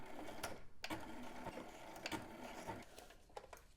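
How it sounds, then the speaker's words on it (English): A home sewing machine runs close by, straight-stitching ribbon in a quick mechanical whir, quiet and steady with brief clicks as it starts and stops. "Now let's take this to the sewing machine to tack it down."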